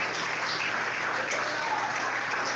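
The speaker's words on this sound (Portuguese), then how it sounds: "as palmas para Jesus" A congregation claps for Jesus at a worship service, sustained fairly distant applause filling the whole stretch at an even level, with no clear voices over it.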